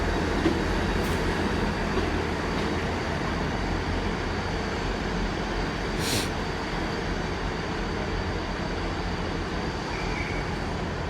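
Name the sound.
Great Western Railway train to Plymouth at Exeter St David's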